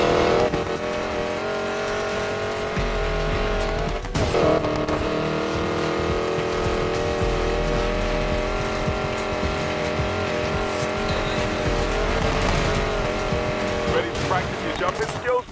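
A hypercar races in Need for Speed Payback, with a loud, continuous engine roar, revving, and tire squeals running throughout and voices talking over the action.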